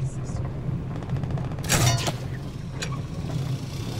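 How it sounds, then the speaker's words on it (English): Gunfire in the video game Fortnite: a rapid rattling burst near the middle and a single sharper shot shortly after, over a steady rumbling game background. "Hey, I hear gun."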